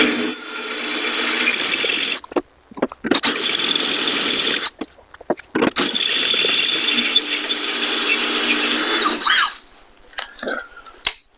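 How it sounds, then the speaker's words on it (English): Loud, steady mechanical whirring of a drill boring a larger hole in metal, running in long bursts broken by brief pauses, with a final short burst before it stops. "I'm going to go ahead and drill a larger hole in this"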